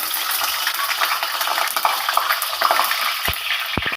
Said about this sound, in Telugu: పన్నీర్ ఫ్రై చేసుకోవాలి.